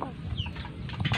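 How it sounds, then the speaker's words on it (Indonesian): Sick chicken with a wheezing, snoring breath, heard up close as soft raspy rattles and low clucking sounds over about a second, with no talking. "kalian bisa dengar ayam ini kan ngorok."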